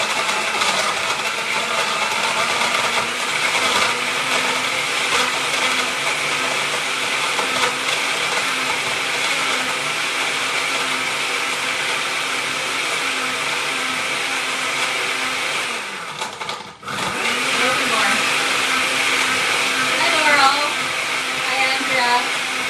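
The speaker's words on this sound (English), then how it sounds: "And then I'm just going to blend it." A blender mixing a milk and cookies frappuccino with ice runs loud and steady for the whole stretch, a dense whirring motor sound with a brief dip near the end before it picks up again.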